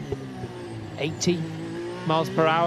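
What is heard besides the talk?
Sergio Perez's Red Bull F1 car at full speed on straight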